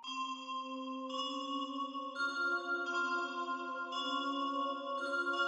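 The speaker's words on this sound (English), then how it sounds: "I got this bell using Nexus." A dark, simple bell melody from the Nexus synth plugin, clean sustained tones stepping through a slow sequence of notes, soft and steady with no other sounds.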